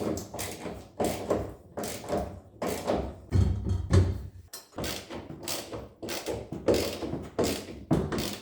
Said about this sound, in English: I have this nice little box with a 19mm socket. And now I'm ready to tighten the bolts.